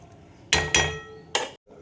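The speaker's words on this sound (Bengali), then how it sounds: "এবার আমি ঢেকে দেব।" A lid is set onto a cooking pan during a breakfast cook, giving three sharp metallic clinks close by, two in quick succession and a third a moment later, followed by brief quiet.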